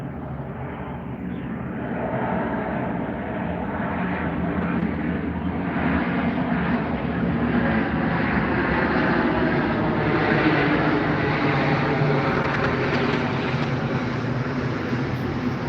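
A loud jet airplane roars overhead, its engine noise swelling slowly and holding steady for the whole stretch with no voices.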